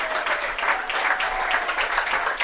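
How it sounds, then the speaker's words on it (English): Fans at a college soccer game clap steadily, a dense wash of applause from the stands that holds even and fairly loud throughout. "You can hear the fans clapping"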